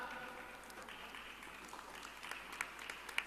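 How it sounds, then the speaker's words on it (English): Parents in the audience at a school orientation programme applaud the nursery toppers, a faint, steady patter of clapping in a hall, with a few sharper claps near the end. "let's give a big round of applause for our tiny tots"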